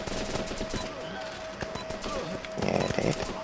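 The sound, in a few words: gunfire from enemy soldiers in video game Running With Rifles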